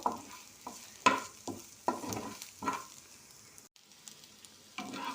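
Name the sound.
frying onions and green chillies together in a pan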